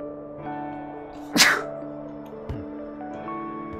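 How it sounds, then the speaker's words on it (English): A single sharp sneeze bursts out close to the microphone, brief and loud, over soft, relaxing game music with sustained tones. "I'm sorry, I sneezed."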